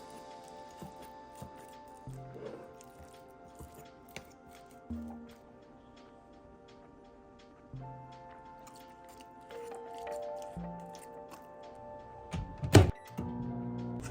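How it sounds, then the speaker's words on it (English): Quiet crunching and chewing of a sun butter cookie, soft irregular bites close up with a faint background hum. "Remember that sun butter cookie from earlier? Well, I didn't eat it after my lunch as intended, so I'm having it for dessert"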